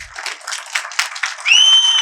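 Audience applause at a festive Independence Day debate event in Tamil Nadu, a steady crowd of clapping hands, loud and continuous, with a bright whistle-like tone rising near the end.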